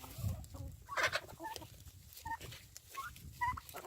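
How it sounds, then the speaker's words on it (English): Several backyard turkeys gobble and cluck in quick overlapping bursts, fairly close and moderately quiet, with a few sharper chirps among the low calls. "Oh, hi, Mr. Turkey."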